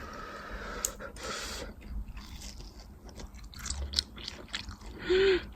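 Close-up crunchy chewing and biting of crispy kimchi pancake repeats irregularly, with soft scraping and a quiet murmur near the end.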